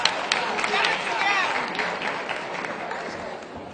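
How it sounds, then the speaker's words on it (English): Audience applause for the performer That Girl at an awards nominee announcement event, a steady dense wash of clapping and crowd noise through the whole stretch, with a host's voice over it. "Shall we give her a round of applause"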